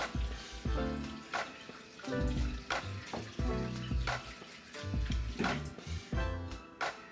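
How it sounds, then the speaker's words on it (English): Running water from a kitchen tap splashes in bursts as a knife and hands are washed under it, close and fairly quiet, with no talking. "Wash my knife and my hands again."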